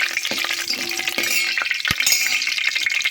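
Garlic fries in oil in a pot for a cabbage tomato curry, a close, loud sizzle with crackles and spoon clinks and scrapes as it is stirred, and no voices.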